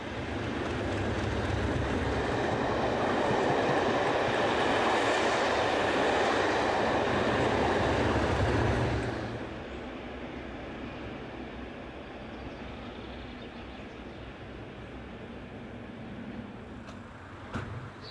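A pair of Class 37 diesel locomotives heads down a Welsh valley line with a train, a steady loud rumble for about nine seconds that drops to a quieter, lingering roll as it passes.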